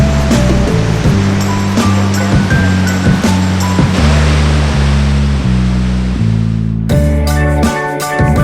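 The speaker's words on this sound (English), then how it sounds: "Waterfall behind you." A waterfall on the road to Whistler, Canada, gives a loud, continuous rushing roar close by, with steady tonal notes layered over the spray.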